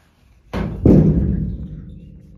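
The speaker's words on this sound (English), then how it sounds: "Sorry about the hood banging around, making noises." Two quick metallic bangs of a car hood, close and loud, the second ringing out briefly before fading.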